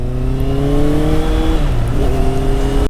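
Honda CBR650 motorcycle fitted with an SC Project exhaust, a loud, close, steady engine drone with rising and falling pitch as it rides along the road, no voices.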